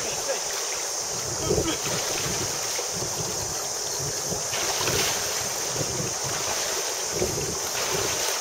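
A boat passes on open water in New Zealand while fly fishing, leaving a low, rolling wash of waves against a constant background of heavy wind buffeting the microphone.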